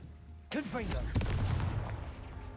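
A Confringo fire spell blasts in Hogwarts Legacy: a sudden loud burst that lingers as a rumbling, crackling wash, with a voice sounding just before the blast.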